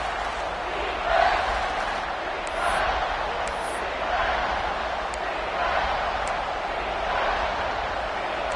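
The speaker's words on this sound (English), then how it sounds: "The crowd elevating its energy, willing this defense to get a stop on this big third down." Stadium crowd noise from a football video game, a broad steady roar of cheering that swells slightly in waves, loud and continuous in the background.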